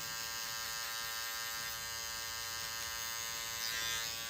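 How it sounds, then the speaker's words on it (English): An Andis cordless hair clipper runs steadily with a constant electric buzz and hum while cutting a mid fade, with no talking. "So we got this Andis cordless clipper"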